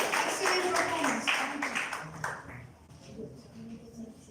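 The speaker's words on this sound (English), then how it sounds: "let us give a big round of applause to all the these evaluated on assignment" Applause for participants at a community meeting, a dense round of clapping that carries strongly for about two seconds and then thins out and fades, with voices murmuring underneath.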